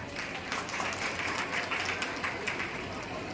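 Audience applause at a gathering in Varanasi: a busy, continuous patter of many hands clapping at a moderate, even level.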